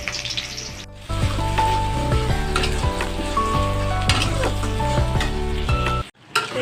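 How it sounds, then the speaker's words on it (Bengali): Onions frying in hot oil in a pan, a steady loud sizzle with stirring scrapes throughout that cuts out briefly near the end. "এখানে তেল দিয়েছি, জাস্ট হচ্ছে পেঁয়াজটা ভাজবো।"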